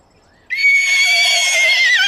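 A horse gives one loud, close whinny that starts abruptly after a quiet moment and holds wavering high tones to the end, with no talking.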